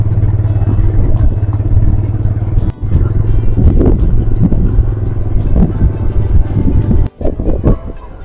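A vehicle drives along a road in Surgana with a steady low engine rumble, close and loud, and some rattling and clatter over the top.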